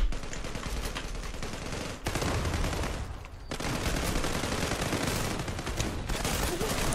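Rapid Glock fire sprays in bursts during a Zula match, loud and close, with a brief gap near two seconds and a quieter dip around three seconds before the shooting resumes.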